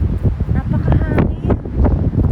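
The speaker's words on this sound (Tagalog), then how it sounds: "Grabe hangin dito sa Ginza, ha." Strong wind buffets the microphone on a street in Ginza, Tokyo, rumbling loudly and close throughout while someone talks over it.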